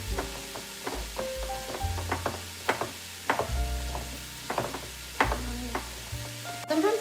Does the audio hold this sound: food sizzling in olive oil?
yes